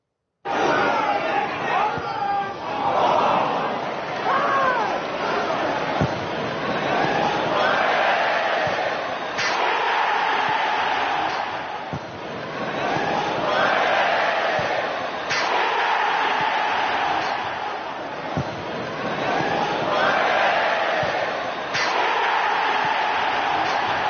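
A large football crowd jeers and laughs at a player's poor touch, a continuous loud roar of massed voices with swelling waves of derision and scattered shouts, heard from within the stadium.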